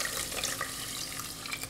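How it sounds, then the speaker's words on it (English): Tap water runs steadily from a kitchen faucet into a measuring cup during meal prep, a continuous close hiss and splash with no pauses and no voices. "There's another cup of water."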